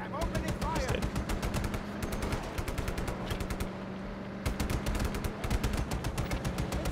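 Rapid automatic gunfire and bursts of shots from Just Cause 3 rattle almost continuously in dense volleys, loud and close, with short pauses and game sounds mixed in.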